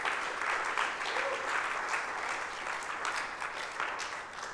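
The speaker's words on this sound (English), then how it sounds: "please, a round of applause, ladies and gentlemen," Audience applause for a conference speaker from Vodafone, a steady dense patter of many hands clapping throughout at moderate distance, with no one speaking over it.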